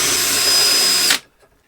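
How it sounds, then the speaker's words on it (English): A power drill bores into wood for an 8 mm dowel hole in a stool leg, a loud, steady high whine that runs for about a second before cutting off abruptly into near silence. "I am ready to drill for the other leg"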